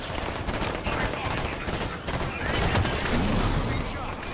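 Enemy soldier gunfire in Halo 5, a dense continuous stream of rapid shots throughout, loud and close, with a player's voice talking faintly underneath.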